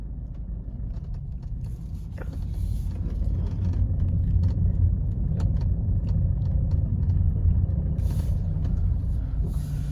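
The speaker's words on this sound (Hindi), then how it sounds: "मैं पहले कार घुमा लेता हूँ क्योंकि सामने से सनलाइट पड़ रही है" A car is turned and driven, its engine and tyre rumble holding steady and fairly close throughout with no talk over it.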